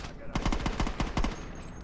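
Assault rifle gunfire in the video game Saints Row: two quick bursts of rapid automatic shots, loud and close, separated by a short pause, over faint background noise.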